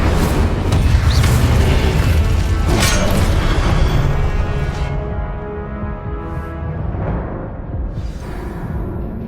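Incendio fire spell cast during combat in Hogwarts Legacy on PS5, a loud booming whoosh of magic with crackling impact, fading into a quieter rumble after about five seconds.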